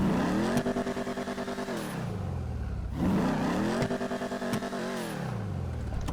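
A modified car engine in GTA 5 revs hard twice, climbing in pitch and dropping back each time, loud and close with a rough, buzzy tone.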